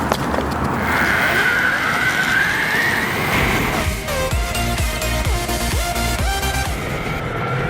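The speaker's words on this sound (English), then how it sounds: "Just heading up this steep hill now on the Flexi board." Flex-E Board 2.0 electric skateboard climbing a steep hill: continuous loud wheel rumble and a rising motor whine, with wind noise throughout and shifting tones partway through.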